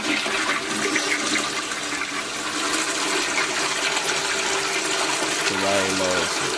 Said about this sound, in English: Shut the lights off to hear the flushing.